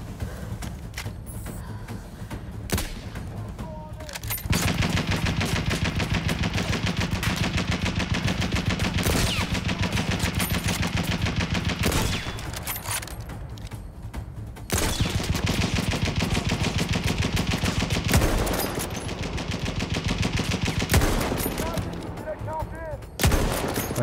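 Sustained gunfire in Battlefield 1, a World War I video game, with dense bursts of rifle and machine-gun shots continuing steadily throughout and dipping briefly between volleys.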